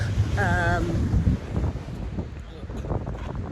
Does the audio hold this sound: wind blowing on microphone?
yes